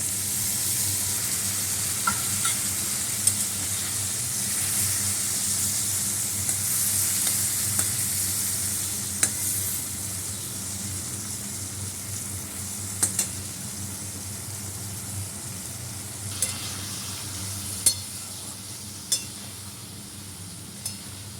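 Tomato, turmeric and chilli powder fry steadily in a hot pan, giving a dense, continuous sizzle while a utensil stirs and occasionally clinks against the metal. The sound stays close and even throughout, with no voices.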